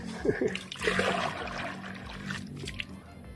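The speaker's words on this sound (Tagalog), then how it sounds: "Ito po sila nag-iigib ng tubig sa balon." Water is drawn by hand from a far-off well, with irregular splashes, pours and trickles. A soft murmur runs underneath.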